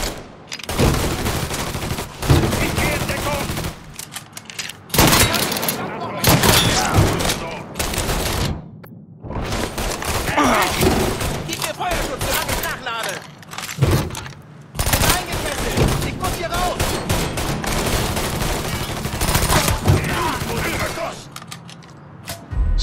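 Gunfire in the video game Mafia III crackles in dense, repeated bursts of shots and rapid automatic fire, loud and close, with short pauses between volleys and someone talking in German over parts of it.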